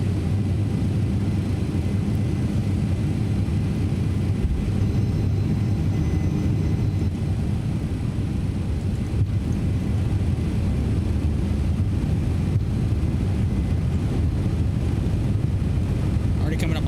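A TFDI MD-11 FedEx cargo jet begins its takeoff roll in a flight simulator, its engines a loud, continuous, even roar, with a voice talking over it at times.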